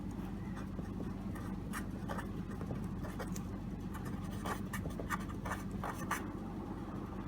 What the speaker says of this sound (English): let us start by writing the formula itself